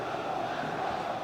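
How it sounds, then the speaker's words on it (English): A stadium crowd in the football video game FIFA 25, during a Bergamo Calcio vs 1. FSV Mainz friendly: a dense, steady wash of roaring fans, loud and even throughout the short stretch. "The crowd encouraging him to take it on"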